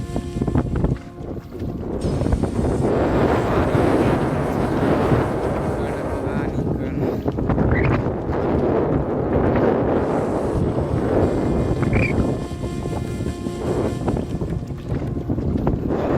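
Steady, loud wind rushes across open water at a dam in summer, with a continuous broadband roar and faint water movement throughout; no clear voices stand out.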